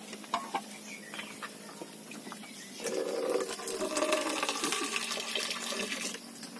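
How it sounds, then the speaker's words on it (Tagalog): A little water is poured into coconut toddy vinegar (sukang tuba) while cooking, giving a soft, steady splashing trickle that begins after a few faint clicks and continues to the end. "Lagyan natin ng kunting tubig."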